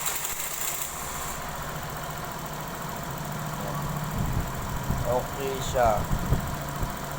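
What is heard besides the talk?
Suzuki Burgman scooter engine idling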